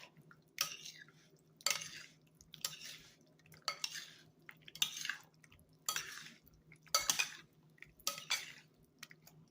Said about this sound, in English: And I'm gonna mix it up so it can marinate.